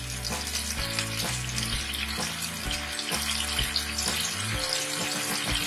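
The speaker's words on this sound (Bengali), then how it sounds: "মাছটাকে আমরা খুব বেশি ফোটাবো না, জাস্ট 2-3 মিনিট ফুটিয়ে নেব।" Pabda fish curry bubbles and sizzles in a pan with a steady close simmering hiss. A faint background tone rises and falls throughout.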